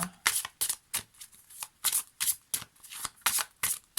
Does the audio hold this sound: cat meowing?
no